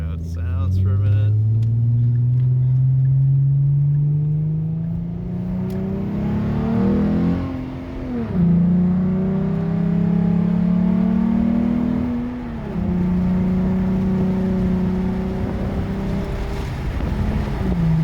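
A custom S197 Ford Mustang engine rumbling loudly and close, its pitch climbing in long sustained revs with brief dips between pulls, deep and throaty with some wind buffeting.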